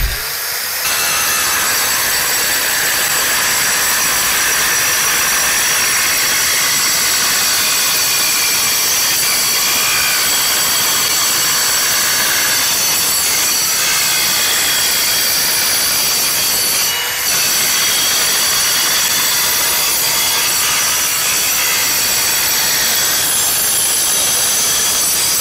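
A Hychika mini circular saw cuts through 2.5-inch steel tubing with thin walls, a loud, continuous, high-pitched grinding shriek that holds steady for a long stretch with a brief dip partway through.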